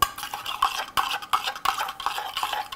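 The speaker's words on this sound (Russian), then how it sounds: "Останется только перемешать" Espresso and filter coffee stirred together with blackcurrant and vanilla syrup, a spoon clinking repeatedly against the glass in a quick, irregular rhythm, close and clear with no talk.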